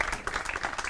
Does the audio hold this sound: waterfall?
no